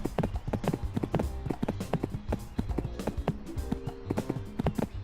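Hooves of a horse being ridden in a video game clop in a quick, steady rhythm, sharp and close, continuing throughout.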